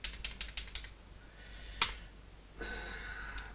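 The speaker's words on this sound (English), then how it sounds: "Look at me typing. No, I've got a dodgy keyboard." A brand-new but faulty computer keyboard being typed on nearby, quick clacking keystrokes at first, then a sharp single click and a softer rustle afterward, without speech.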